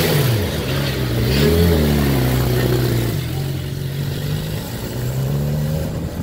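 A Ducati Panigale sportbike pulls onto a racetrack, its engine revving up and shifting with rising and falling tones, loud and close, then easing off before climbing again.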